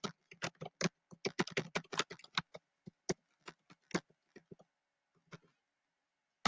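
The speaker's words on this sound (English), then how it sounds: "Make sure I type a little bit slower." Keys on a computer keyboard clack in quick bursts and short pauses, close and fairly quiet, with no one talking.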